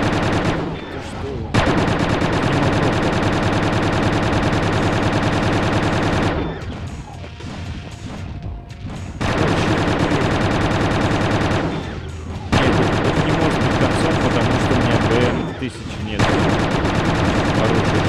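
Rapid, continuous bursts of automatic gunfire from Quake 2 on the PlayStation fill the clip in long sustained volleys, separated by brief quieter gaps.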